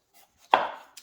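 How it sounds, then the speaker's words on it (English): A knife slices through a raw potato, trimming off the rounded sides to square it for French fries: one crisp, firm cut with a short scraping tail, then a faint second contact, with no talking. "you cut it like so. Get these round pieces off so that you can get your French fries uniform in shape."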